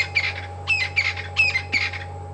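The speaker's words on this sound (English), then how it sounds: "We've got crested francolin, yellow-billed hornbill, crested barbet, white-crowned shrike, dusky flycatcher." Crested francolin, yellow-billed hornbill, crested barbet and shrike call together at sunset on an African safari drive, a series of harsh, repeated squawking bursts close by over a steady low engine hum.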